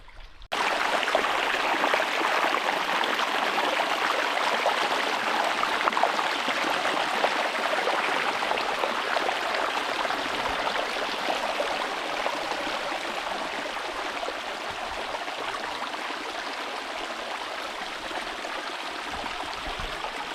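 A steady, close rush of flowing sulfur spring water runs without pause in Oman, like a stream tumbling over rocks, with no voices.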